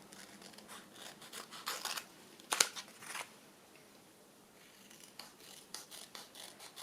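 Quiet, close scissor snips and rasping paper rubs while trimming around a thumb hole in a handmade sewing journal, a few short bursts spread over several seconds.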